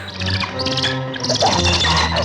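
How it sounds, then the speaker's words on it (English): A hawk screeches in the 1963 horror film The Terror, a loud, steady run of harsh, shrill bird calls that fills the moment without talk. "The evil, the hawk."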